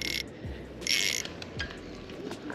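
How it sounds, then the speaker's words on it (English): A fishing reel's drag clicker ratchets in quiet bursts on a 7.5-foot BFS rod, with faint sharp line pings scattered between the clicks and no talking. "You're going to hear those 4 pings, and those are kind of different to the drag clicker sound."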